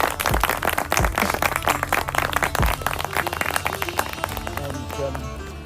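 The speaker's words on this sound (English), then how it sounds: "Big round of applause." A conference audience applauding at the close of a session in a large tent, a dense burst of many hands clapping that starts loud and gradually thins, close and filling the space, without speech.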